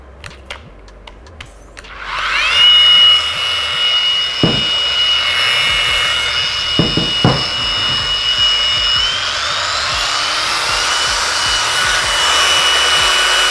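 A Flex SE 125 angle grinder starts up and runs at a steady, loud, high whine with a pitch shift partway through; a few knocks sound over it and no one speaks.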